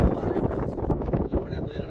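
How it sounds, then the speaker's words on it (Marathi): Gusty wind rushing over the microphone in a steady, dense roar with uneven buffeting, close and fairly loud throughout about two seconds. "वारा सुटला यार. काय ना फॅनची पण गरज नाही."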